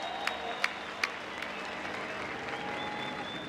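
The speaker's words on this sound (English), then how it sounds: "applause for Matt," A drift event crowd applauds for drift driver Matt Field at the Formula Drift Long Beach round, a steady wash of clapping with a few sharper claps early on.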